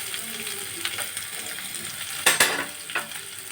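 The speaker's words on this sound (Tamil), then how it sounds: "ஒரு 1 to 2 minutes வரைக்கும் நல்லா ஃப்ரை பண்ணிக்கோங்க." Chopped onion, curry leaves and green chillies fry in hot oil with mustard seeds, urad dal and chana dal, a steady close sizzle broken by a few sharp clatters of stirring in the pan.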